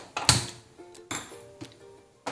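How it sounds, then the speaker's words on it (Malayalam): A few sharp mechanical clicks and a short rattling turn of a gas stove knob, separated by quiet gaps, close and moderately loud. "ഇനി നമുക്ക് ഗ്യാസ് ഒന്ന് ഓൺ ചെയ്യാം"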